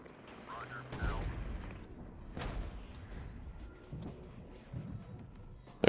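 Enemy gunfire in the Regiments war game comes as scattered distant shots and bursts, with a louder crack near the start and more reports spread through the stretch, all fairly quiet with a background rumble.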